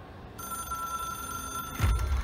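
Telephone ring from a strange object-of-power phone in the Control video game, a steady sustained electronic tone that holds for about two seconds before a louder burst near the end.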